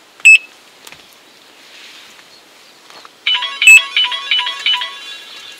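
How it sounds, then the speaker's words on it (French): A mobile phone plays a bright electronic ringtone outdoors while fishing, a short beep first and then a loud, repeating melodic ring that kicks in partway through and keeps going close to the microphone. "Bon, j'ai le téléphone qui sonne, je vous reprends après."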